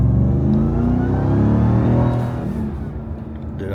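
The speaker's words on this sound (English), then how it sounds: "I need to get a cold air intake just to make that supercharger whine a little bit louder" Supercharged Ram TRX V8 revving hard and accelerating, a loud deep engine roar that stays strong, then eases slightly toward the end, with no talking.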